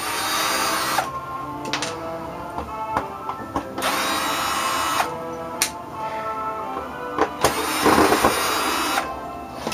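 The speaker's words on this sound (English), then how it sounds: "Thought I'd cheat this time and use the battery drill on it." Cordless drill whirring in several bursts while taking apart a VCR, revving up and stopping repeatedly, close and loud, with short pauses and clicks between runs.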